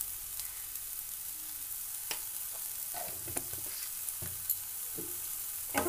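Soya chunks frying in a pan with turmeric, salt and spices, a steady soft sizzle broken by scraping stirs from a spatula, quiet and close, with no voices.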